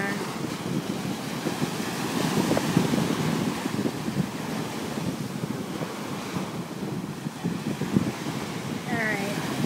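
Ocean surf rolls in at a beach on a sunny day, a steady broadband wash of breaking waves with gusty wind buffeting the microphone throughout, fairly even in level with no clear individual crashes standing out.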